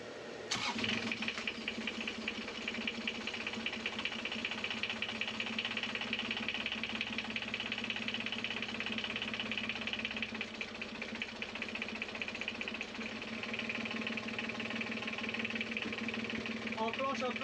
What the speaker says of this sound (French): t'es prêt pour le test moteur? Non. Ok, vas-y, préchauffe et allume.